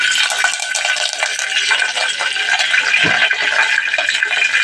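Mustard seeds and curry leaves tempering in hot oil for a jackfruit seed curry, producing a steady, bright sizzle with crackling pops and a few light utensil clinks, close and continuous.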